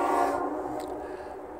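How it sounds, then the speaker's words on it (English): A passing diesel train sounds its horn in a long, loud sustained blast that fades slightly, with a steady engine rumble underneath and no talking. "you can hear the horn"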